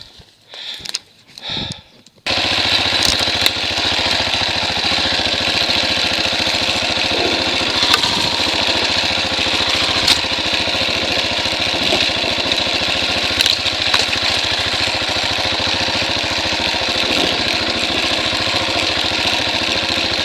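A 2017 Husqvarna 701 Enduro single-cylinder dirt bike idles steadily and loud up close, a constant rumble that starts abruptly after about two seconds of brief scuffling noises.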